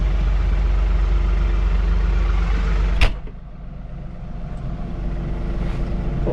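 John Deere 3046r compact tractor idling nearby, a steady low engine rumble interrupted by a sharp knock partway through, after which the drone continues more muffled.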